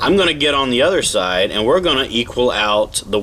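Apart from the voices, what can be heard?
No distinct noise like a dog, phone or traffic.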